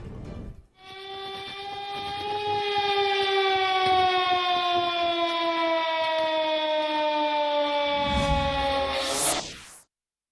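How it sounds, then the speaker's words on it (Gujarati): An emergency civil defense siren is tested in Ahmedabad, sounding one loud, sustained, slightly falling wail for about eight seconds before cutting off, followed by a brief burst of rustling noise. "જાહેરમાં 7 માર્ચે આપાતકાલીન સાયરન વગાડવામાં આવશે"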